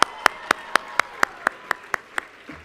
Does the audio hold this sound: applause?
yes